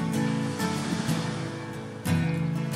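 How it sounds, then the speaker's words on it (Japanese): Ocean swell breaks as shore break waves at a Japanese surf spot under a light offshore wind, a continuous roar of surf with a fresh surge near the end. "綺麗なうねりが入りますがショアブレックですね。"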